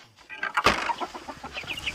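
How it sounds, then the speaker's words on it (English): Chicks and hens on a farm cluck and peep close by, a busy mix of short calls with a brief flutter, and no talking. "The chicks and hens came in here by themselves."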